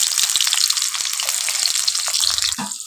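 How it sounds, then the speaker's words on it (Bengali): Potatoes fry in hot oil in a wok with a loud, close, continuous sizzle and crackle, steady throughout with small pops and no speech. "সেই আলুগুলো এখন ভেজে নেওয়া হচ্ছে"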